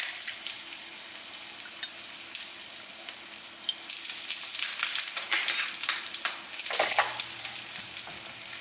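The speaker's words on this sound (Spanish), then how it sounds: "Por aquí ya tenemos la carne bien condimentadita, entonces ahora sí la vamos a poner a sofreír" Seasoned ground meat for tacos sizzles and crackles in hot oil in a pan, a steady frying hiss broken by sharper pops and stirring scrapes, close and unaccompanied by voices.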